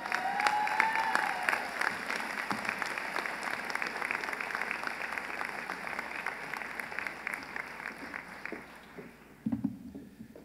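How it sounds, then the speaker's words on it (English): Audience applause fills a college graduation ceremony for sciences and mathematics, a sustained wash of clapping with some cheering, steady then thinning out near the end, from a large crowd at moderate distance. "please clap"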